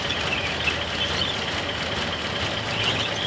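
A Nissan 720 Datsun truck engine runs after its first start in years, a steady close idle with an even hum and a faint, continuous rasp, and no talk.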